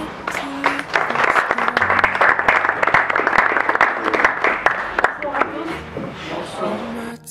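A church congregation applauding, dense continuous clapping from many hands that fades out near the end, with voices mixed in.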